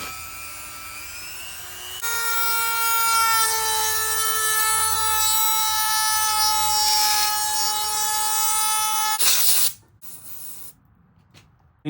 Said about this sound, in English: So I'm going to clean this up a little with the Dremel.